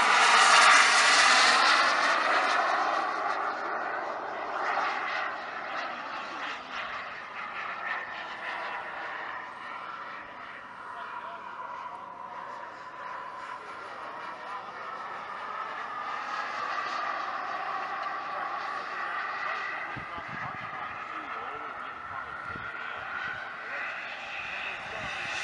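A BVM F15 Eagle model jet powered by a Swiwin 140 turbine flies past, its steady turbine whine swelling and fading as it moves overhead across a field, loud at first, then holding a continuous roar.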